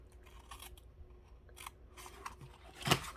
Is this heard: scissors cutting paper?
yes